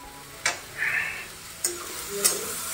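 Cabbage ghonto cooks in a pan at home, with a soft sizzle and a few sharp clicks and scrapes of a spatula stirring against the pan, spaced out and close.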